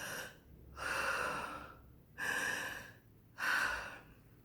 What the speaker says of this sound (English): So you could just take a couple of deep breaths